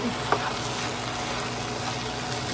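Garden vegetables with grated Parmesan sizzle softly in a pan while being stirred, a steady low frying hiss with one small clink at the start.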